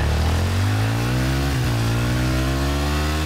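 A motorcycle engine in the video game Battlefield 4 revs hard and loud, its pitch climbing steadily with a brief dip midway before rising again, a close, buzzing roar with no voices over it.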